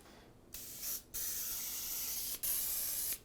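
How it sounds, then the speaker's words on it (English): Three bursts of pressurized flour baking spray hiss from an aerosol can onto a cake pan, each lasting about a second, close and loud with brief pauses between. "We spray it and you have a buttered and floured pan."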